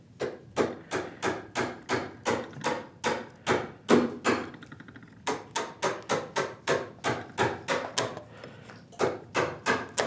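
Chisel paring excess width from wood while building a router plane kit, heard as a long steady series of sharp rhythmic strokes, each a crisp cut or tap, with no voice over them.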